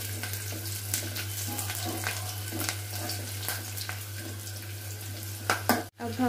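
Steady sizzling and crackling of garlic cloves frying in hot oil until golden brown, with a hum underneath and a brief clatter near the end.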